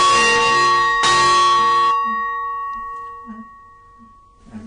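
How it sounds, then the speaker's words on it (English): An old clock bell rings out twice when pulled, two bright, loud metallic strikes with long ringing overtones that decay over several seconds, followed by faint knocking. "I want to make that bell chime."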